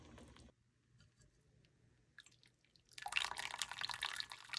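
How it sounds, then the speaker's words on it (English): Homemade vegetable and fish broth is strained, with quiet faint ticks and drips at first, then a sudden steady rush of liquid pouring through a strainer for the last stretch, close and without voices. "I'm gonna strain it 3 times because I don't want any seeds or anything in the broth before I drink it."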